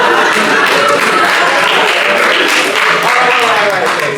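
A comedy show audience applauds loudly and steadily, a thick continuous wash of clapping from a packed room, with some cheering mixed into the noise.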